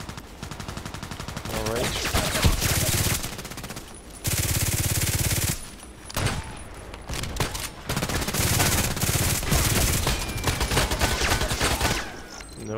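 An HK417 rifle firing on automatic, loud close bursts of rapid shots in several long strings separated by short pauses, with a brief spoken word near the start.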